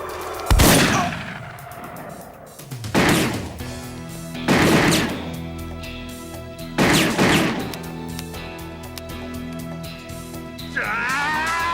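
Several loud gunshots ring out in a dramatized action scene, sharp bursts spaced a second or two apart with echoing tails, the last followed by a brief rising tone.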